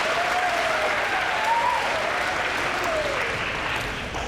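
A school DARE event audience applauds officers being introduced, loud, continuous clapping from a crowd with a faint whistle or squeal drifting through, and a hint of voices under the noise.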